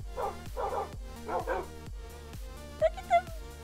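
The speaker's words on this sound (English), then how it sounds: "Dogs!" Dogs barking in the Minecraft video game, a quick run of repeated yips and barks at a regular rhythm, fairly close and clear, followed by two short whimpering notes.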